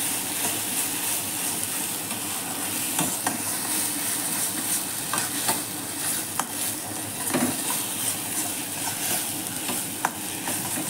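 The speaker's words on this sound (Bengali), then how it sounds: "আন্দাজ মতো হলুদ, আন্দাজ মতো লবণ দিয়ে মশলাটাকে ভালো করে কষিয়ে নেব" Spice masala with turmeric and salt fries in a pan on low heat for a stuffed teasel gourd dish, a continuous close sizzle broken by repeated scraping stirs and occasional sharp clinks of spoon on metal.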